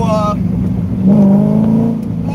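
A C5 Chevrolet Corvette driven hard, its engine holding a loud, steady low roar that rises sharply as it revs up midway, with no one speaking.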